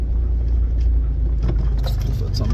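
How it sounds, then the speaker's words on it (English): An off-road vehicle in four-low, second gear, idling slowly along a dirt track near abandoned mines, a steady low engine rumble with faint rattles, continuous and close, no talk. "And 4 low and second gear and just idling."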